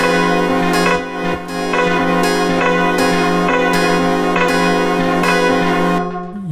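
Five instruments play at once: piano, 12-string guitar, bass horn, saxophone and chorus guitar, forming a dense, steady sustained mix with rhythmic strums and accents throughout, fading near the end.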